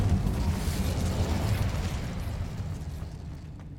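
Incendio fire spell cast in Hogwarts Legacy, a roaring, rumbling burst of flame that fills the moment and slowly fades, with no talking over it.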